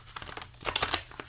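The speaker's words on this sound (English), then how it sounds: "All right, I'll shuffle again" A deck of tarot cards being shuffled by hand, a flurry of crisp papery riffles and slaps, close and brief, building to a denser burst midway.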